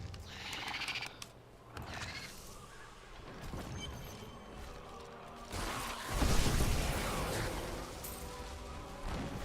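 A horse neighs in the Diablo 3 video game, a loud whinny among game sound effects, hoof clatter and crashing noises, with intermittent bursts rising and falling across the scene.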